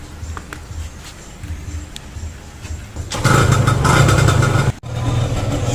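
Stock motorcycle engine idling after a carburetor repair on a stripped jet, a steady low throb that swells louder midway with a brief dropout before settling back into an even near idle.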